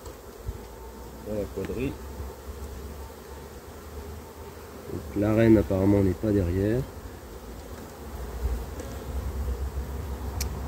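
Honey bees buzz loudly as they are shaken off a hive frame, with a short burst early on and a stronger, pulsing swell in the middle, while someone speaks French nearby.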